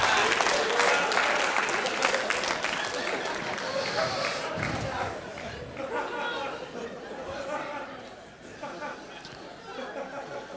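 Audience at a comedy show applauds and chatters, a dense wash of clapping with scattered chuckles that fades gradually beneath a speaking voice.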